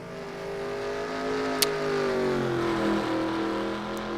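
An ARCA race car engine at the Milwaukee Mile oval in a racing sim drones steadily and loud off the final turn, its pitch dipping and rising as it accelerates, with a couple of brief sharp ticks.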